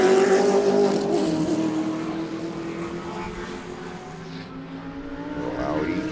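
A Porsche GT race car roars past at Sebring, its engine note loud and close before dropping in pitch and fading slightly as it moves away, with another car's engine layered in.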